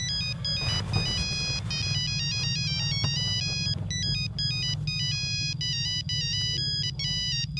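A telephone rings with a repeating electronic ringtone melody, steady and fairly loud over a low background hum, with no talking.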